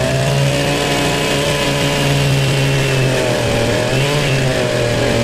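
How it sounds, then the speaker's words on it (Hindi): The engine of a post hole digger runs continuously, a loud, steady buzzing drone with a slight dip in pitch partway through and no speech. "इतना पावरफुल इंजन है, अगर आपकी जमीन में कोई पत्थर या कंकर आ जाएंगे उसको क्रश कर देगा।"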